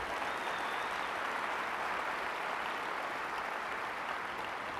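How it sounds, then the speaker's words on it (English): Sustained applause from a conference audience at SXSW Interactive 2015 after Daniel Pink's talk, a dense, even wash of clapping at moderate level throughout with no voices standing out. "Oh, first applaud."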